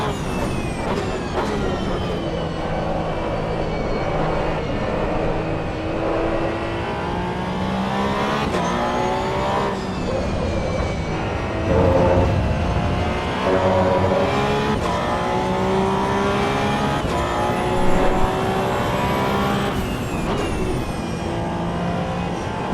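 A rear-engined Porsche race car in Assetto Corsa EVO at Spa, its engine droning steadily with rising and falling gear sweeps and sharp upshifts, loud and close throughout, with a brief surge of revs around the middle.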